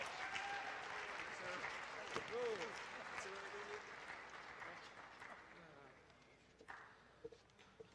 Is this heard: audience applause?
yes